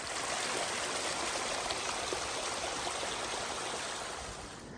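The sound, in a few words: waterfall on the North Puyallup River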